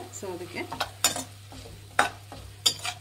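Tomatoes with salt and chili powder fry over a medium flame for Andhra-style tomato pappu, crackling close by as a spoon stirs with irregular scraping knocks against the pan; a voice speaks briefly over it.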